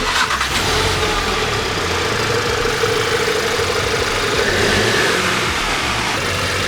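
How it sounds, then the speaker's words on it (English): A 2017 VW Golf GTI fitted with a K&N intake runs steadily close by, its engine note loud and continuous with a slight swell in revs partway through. "let's get a clip of Jake's new intake"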